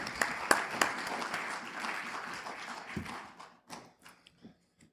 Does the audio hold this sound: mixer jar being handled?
no